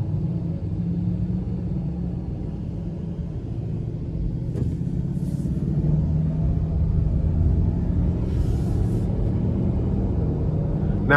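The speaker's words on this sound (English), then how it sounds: "with the turbocharger, you just get that initial oomph if you give it anything more than a light tap" A 2025 Cadillac XT4 Sport with a 2.0-liter turbocharged four-cylinder accelerates in a steady low cabin rumble of engine and road noise that builds slightly, with faint brief clicks from inside the car.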